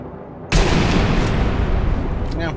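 A sniper rifle shot in Sniper Elite V2: one sudden, loud, close crack that cuts through a quiet background, then a long rolling echo and rumble that fades slowly.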